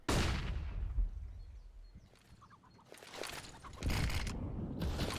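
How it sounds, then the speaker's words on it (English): Grenade explosion in a competitive shooter match: one sharp, loud blast at the start decays into a rumbling tail, followed by scattered gunfire bursts and softer game noises. "Big nade coming down onto Crashies"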